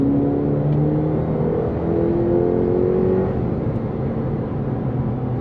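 A 2020 Cadillac CT5 accelerates from a roll at about 40 mph, heard from inside the cabin as a steady engine drone with a rising whine over continuous road noise, and no one talking.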